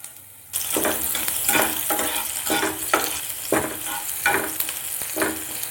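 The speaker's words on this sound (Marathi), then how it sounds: "हा कांदा आपण थोडासा लालसर परतून घेऊयात" Cumin and finely chopped onion frying in hot oil, starting after a brief quiet moment, then a loud steady sizzle broken by regular rhythmic stirring strokes.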